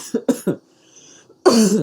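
Three quick coughs close to the mic, a short quiet pause, then a longer, heavier cough or throat-clearing burst.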